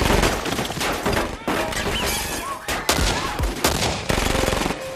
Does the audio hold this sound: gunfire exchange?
yes